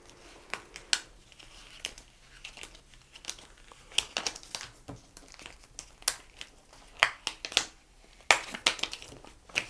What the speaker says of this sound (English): we get our weeding tool started in the corner. We'll get that up. And then we'll just start to peel that off.